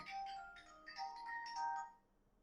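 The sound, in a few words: mobile phone ringtone ringing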